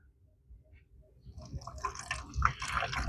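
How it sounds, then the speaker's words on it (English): Water runs into a tie-dye squeeze bottle, filled only about halfway, with a low gurgling pour that builds steadily louder and brighter over a few seconds, close up and with no talking. "So we're going to put water in here."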